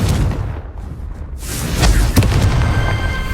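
A Confringo fire spell bursts in Hogwarts Legacy with a loud whooshing blast, followed by a couple of sharp cracks and crackling over a rumbling game soundscape.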